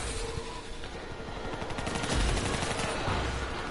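Rapid, sustained gunfire from a black hole gun in a zombie video game, a dense, continuous crackle of shots that stays loud and steady throughout.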